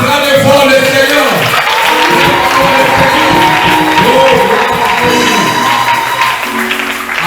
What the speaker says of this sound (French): acclamez fort le Seigneur